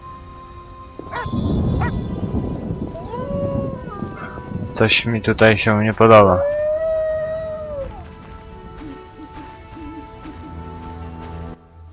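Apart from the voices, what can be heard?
dog howling in The Witcher video game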